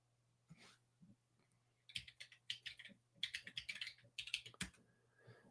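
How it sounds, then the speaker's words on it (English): Computer keyboard keys being pressed while a password is entered: a few isolated taps, then quick bursts of clicky keystrokes, close and fairly quiet over a low steady hum, with no talking. "Okay, so I'm typing in my password."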